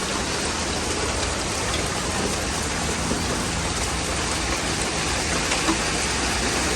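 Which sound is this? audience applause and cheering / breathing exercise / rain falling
rain falling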